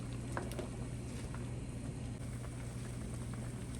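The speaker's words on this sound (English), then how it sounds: "I just want them to boil a little more to get out the excess sodium" Salt mackerel boiling in a pot, a faint, steady bubbling simmer with a constant low hum behind it and occasional small pops.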